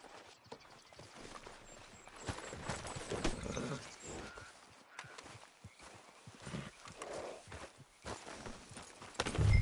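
Horse hooves clip-clop at a steady walking pace in Red Dead Redemption 2, the footfalls close and continuous over quiet outdoor ambience, with a louder knock near the end.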